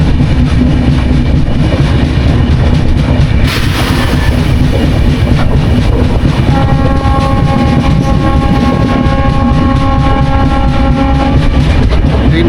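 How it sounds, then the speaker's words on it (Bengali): A train rolls along rails on the way from Siliguri toward Sikkim, giving a loud, continuous rumble and clatter heard from on board, with a sustained tonal whine joining in the second half. "ট্রেন রাইট টাইমেই আছে"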